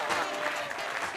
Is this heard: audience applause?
yes